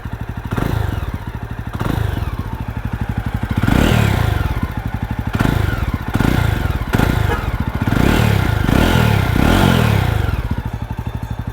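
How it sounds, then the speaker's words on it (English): A Jawa 42 motorcycle engine thumps with a steady, loping idle, blipped up into repeated revs and dropping back, close and loud with no talking. "I really like the sound of the Java engine"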